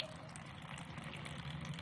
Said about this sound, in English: The water is flowing from all the 4 tubes.